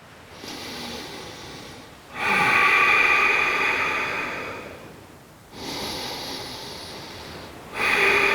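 Deep breathing during a vinyasa yoga flow: long, loud, airy inhales and exhales close to the ear, each swelling and fading slowly in an unhurried rhythm with no talking.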